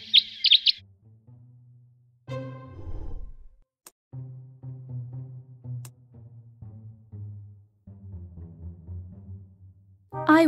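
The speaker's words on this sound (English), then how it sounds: "Bird." A short burst of high bird chirps comes first, then calm music plays, with another brief chirp at the very end.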